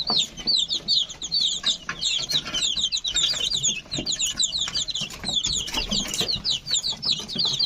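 Chickens and chicks cluck continuously in a busy, close chorus, with rapid overlapping calls and some scratchy background rustling.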